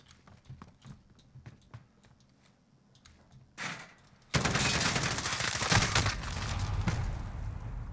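Sustained burst of M4 rifle fire in a Modern Warfare match on the Docks map, loud and dense after some quieter footsteps and clatter, continuing steadily to the end.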